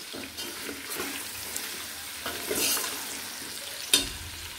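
Onions fry in oil in a pan while being stirred, making a steady close sizzle with occasional scrape and stir strokes and one sharper clatter near the end, with no talk.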